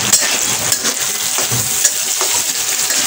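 Soybean and potato curry cooking in a pan, a loud continuous sizzle and frying hiss with scraping stirring strokes and light utensil taps throughout.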